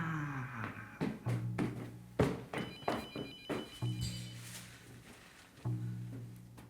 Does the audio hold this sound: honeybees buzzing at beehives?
no